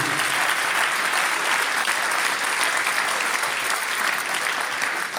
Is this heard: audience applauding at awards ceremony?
yes